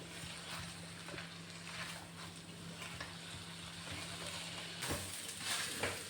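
Tamarind rice (puliyodarai) being mixed in a pan, with soft scraping and stirring against a low steady hum, fairly quiet, with a slightly louder scrape near the end.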